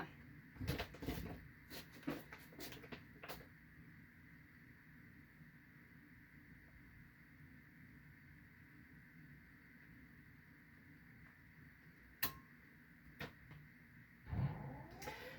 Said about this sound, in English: So it's the well pump that you're probably hearing.